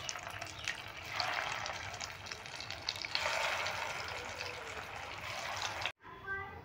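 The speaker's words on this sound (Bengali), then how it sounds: "একইভাবে ভেজে নেব।" Red lentil tikia kebabs sizzling in hot oil in a pan, a steady close frying hiss that swells twice, then a short cut with faint clinks at the end.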